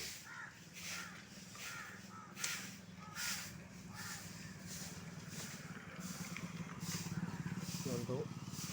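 Crows caw outdoors during early-morning front-yard cleaning, repeated calls at middle distance over a steady low hum of passing motor traffic.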